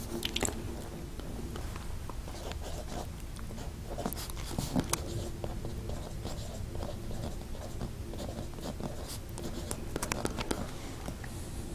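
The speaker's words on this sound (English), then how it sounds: "So let's put this nib to paper and see how it works." BIC disposable fountain pen nib writing on paper, soft, close scratchy strokes and taps in an irregular rhythm throughout, quiet and alone.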